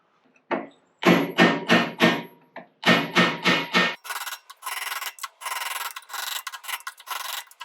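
A big hammer repeatedly strikes a screwdriver against the strut housing of an air-cooled Porsche 911, sounding as two close bursts of four sharp metallic blows, then a faster run of lighter rasping taps.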